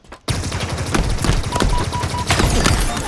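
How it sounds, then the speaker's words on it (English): Rapid needler fire from a Halo ranked Capture the Flag match, a dense, continuous burst of repeated shots running for about three seconds, loud and close with no talk over it. "A little bit shaky on the needler shots there"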